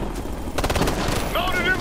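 Rapid machine-gun bursts from a Tom Clancy shooter video game, a dense chattering volley of shots in the middle of the clip, mixed with game noise and shouted voices.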